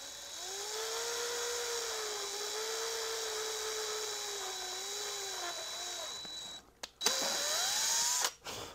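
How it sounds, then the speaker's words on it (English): A power drill whines steadily for several seconds at a fairly even pitch while pre-drilling a hole in a 2024 Chevrolet Silverado, then stops and gives a couple of short bursts. "we can start the pre-drilling forward"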